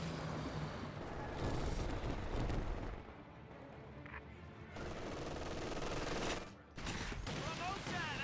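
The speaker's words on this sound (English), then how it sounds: "And here comes the barrage into his opponent's base once again." Artillery barrage in the World War II strategy game Company of Heroes 2, a dense rolling wall of rapid blasts and gunfire that dips briefly and resumes, loud and continuous.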